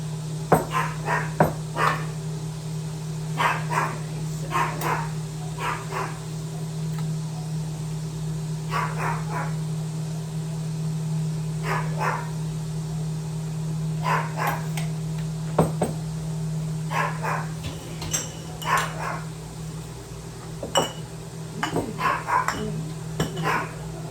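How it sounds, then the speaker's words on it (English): A Pomeranian dog barks repeatedly in a home kitchen while ground beef is being canned: short, sharp yaps in irregular bursts, moderately close, over a steady low hum. "Pay no attention to my dog. It's a Pomeranian. They never shut up."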